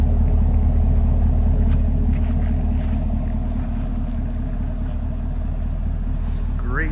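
2018 Chevrolet Camaro 2SS idling, its V8 exhaust giving a steady, deep, loud rumble heard close from the rear, continuous and even throughout.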